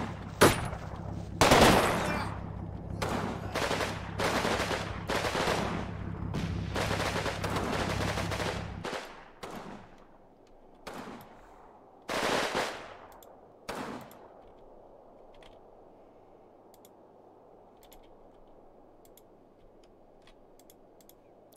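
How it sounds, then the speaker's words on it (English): A German machine gun firing in the WWII video game Combat Mission Red Thunder, loud rapid bursts of sharp shots for several seconds, then a few separate shorter bursts before fading to quiet background hiss. "it's just that German machine gun"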